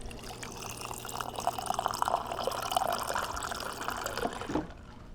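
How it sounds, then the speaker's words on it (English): Water runs from a tap into a glass in a home kitchen, a steady trickling pour that rises in pitch as the glass fills before stopping abruptly. "I do need a glass of water."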